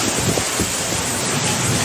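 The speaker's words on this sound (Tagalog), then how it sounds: "Malakas na ang buhos ng ulan tapos malakas pang hangin." Heavy rain pours in strong wind during a super typhoon in Batanes, a dense, loud, continuous rush with gusty buffeting, and no speech heard.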